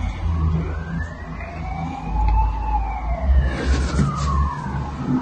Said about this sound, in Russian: хоть скорая едет